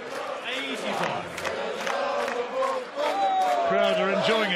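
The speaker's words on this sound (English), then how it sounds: "Crowd are enjoying it tonight, to put it mildly. They're all getting into it." A darts crowd at the 2017 European Darts Championship cheers and buzzes with chanting voices, a steady loud roar over which a commentator talks.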